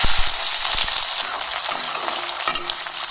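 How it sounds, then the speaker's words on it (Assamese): Onions frying in hot oil in a pan, ahead of a one-kilogram chicken curry with sesame seeds; a loud, continuous crackling sizzle with stirring clatter and a few sharp pops, close up. "তেল গৰম হৈ গ'ল এটা আমি প্ৰথমতে পিয়াজখিনি ভাজি লম"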